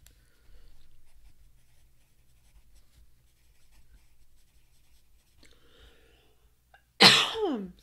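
A single loud, harsh cough bursts out near the end after a long stretch of near silence, close and abrupt.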